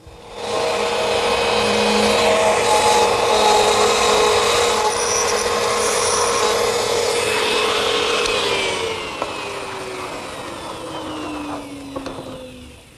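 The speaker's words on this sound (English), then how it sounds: "I'll remove the material using the same router setup I used earlier." A router cuts a mortise into a redwood post guided by a jig for an arbor, a loud steady whine with rough rasping that runs for about nine seconds, then drops to a lower tone as the motor spins down.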